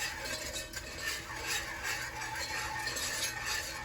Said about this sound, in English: you have to keep stirring this so your flour don't burn